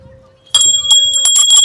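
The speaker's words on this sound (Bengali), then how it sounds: "বাট ঘন্টাটা ভালো, আওয়াজটা ভালো, সুন্দর বেশ।" A small brass bell rings at a Puri beach market stall, starting abruptly with bright, loud, sustained metallic tones struck several times in quick succession.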